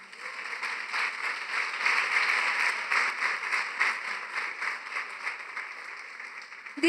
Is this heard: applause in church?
yes